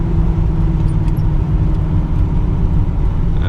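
A Chevrolet Camaro with a newly built engine is driven hard on warm tires, its deep engine roar and road rumble loud and continuous throughout, with no talking.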